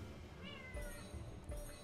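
A cat meowing at the door indoors, a few short faint meows heard through a quiet room.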